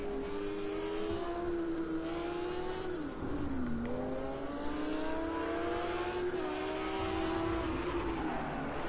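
A GT3 race car in a racing video game warms its tires on a cold Belgian track, its engine droning steadily with rising and falling revs, loud and continuous.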